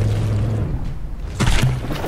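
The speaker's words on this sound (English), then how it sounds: "Ooh, it's taking some big hits." Heavy shell impacts strike a battleship in a From The Depths naval battle, heard as low booming rumbles with a second harder crash and crackle about two-thirds of the way through, loud and close, with no talking.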